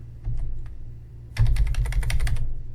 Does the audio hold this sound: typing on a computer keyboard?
yes